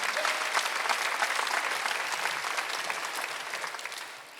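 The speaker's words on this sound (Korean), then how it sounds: "깨달은 사람만 박수 쳐주세요" A church congregation claps together at a Sunday worship service, giving dense, sustained applause that fills the room and slowly thins toward the end.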